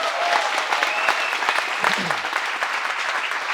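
Seminar audience clapping steadily for a young attendee, dense applause filling the whole stretch at a fairly loud level.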